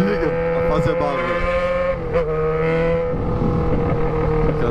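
Continuous loud engine note from a Yamaha XJ6 motorcycle fitted with a single 4-inch exhaust pipe, droning with shifting pitch and a brief rev, with talking partly mixed in.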